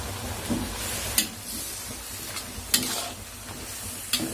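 Kencur leaves being stir-fried and stirred in a pan, a soft steady sizzle with several sharp scraping clinks of the utensil against the pan, close by and without speech.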